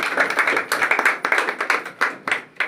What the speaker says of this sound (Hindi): एक बार इनके लिए अच्छी सी ताली हो जाए